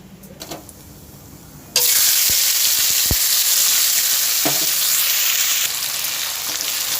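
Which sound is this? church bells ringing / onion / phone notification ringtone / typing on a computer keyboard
onion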